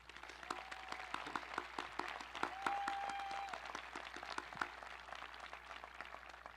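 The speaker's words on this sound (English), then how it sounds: "Please join me in giving them a round of applause." Distant crowd applause at an outdoor high school commencement, a dense patter of many hands clapping steadily across an open field, with a faint whistle rising briefly.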